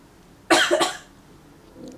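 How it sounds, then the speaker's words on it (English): A person nearby coughs twice in quick succession, a loud, raspy double cough in an otherwise quiet room. "Sorry, so I have a little cough."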